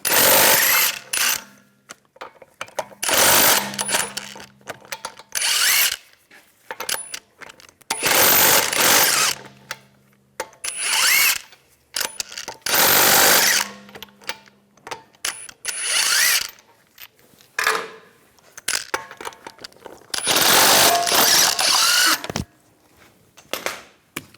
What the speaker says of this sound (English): We're going to remove the wheel, use a 19mm socket, take the lug bolts out.